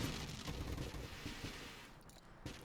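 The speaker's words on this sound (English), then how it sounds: "We've got a lot of explosions happening on the screen." Missile explosions in the space shooter video game Nova Drift rumble in a dense, continuous wash of overlapping blasts. The sound is quiet overall and thins briefly near the end before another burst.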